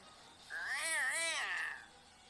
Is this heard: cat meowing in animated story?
yes